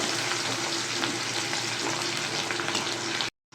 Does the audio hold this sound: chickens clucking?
no